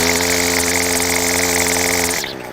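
Weed eater (string trimmer) engine running at a steady, strained pitch without revving fully up, loud and close with a continuous buzzing drone that drops off abruptly near the end.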